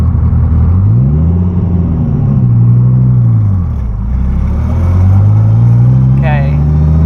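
A car with a five-speed sequential gearbox drives off, its engine rumbling loudly from inside the cabin with revs rising, dipping and climbing again through a gear change, while someone talks over it.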